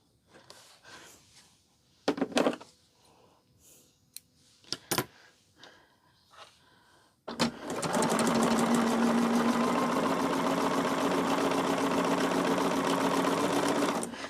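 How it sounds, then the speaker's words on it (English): A sewing machine stitching a quilt block seam starts after a few soft handling clicks and then runs steadily and continuously, close and clear, with no talking. "I'm going to flip it over the other way and sew the other side."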